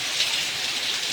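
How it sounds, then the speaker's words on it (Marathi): Heavy early-morning rain in Bengal, with runoff spilling from a rooftop terrace, makes a steady, dense hiss of falling water that fills the whole moment without a break. "सकाळी सकाळी खूप पाऊस आहे."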